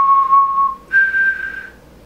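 A person whistles a Star Wars tune alone, two clear sustained notes, the second higher and held before trailing off, close and fairly loud.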